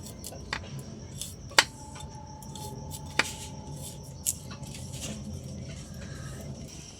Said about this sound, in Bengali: তা আমি কপির ডান্ডিগুলো একটু চিড়ে চিড়ে দিচ্ছি